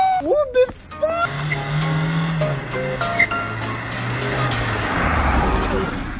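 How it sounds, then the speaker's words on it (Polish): A delivery van in a Mystery Box game drives toward the boxes with a rumbling, droning engine and a steady road noise, after a shouting voice at the start. "Jedzie dostawczak, czy wjedzie w tego Mystery Boxa?"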